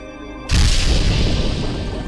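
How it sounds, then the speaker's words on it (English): A cluster grenade detonates in the Space Station 13 video game, a sudden loud broadband boom that hits at once and rolls on as a dense, sustained roar of crackling blast debris. "That's a big cluster grenade."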